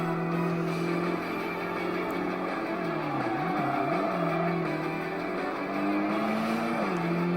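A Honda Integra Type R races in the Tokyo Xtreme Racer Drift 2 video game, its engine droning steadily and loudly with rising and falling pitch as it shifts, alone without speech.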